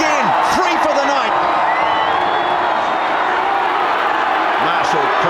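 A rugby stadium crowd at a Super 12 match cheers and roars in a broad, continuous wash of noise. Excited commentary runs over the top, with a few whoops rising out of the crowd.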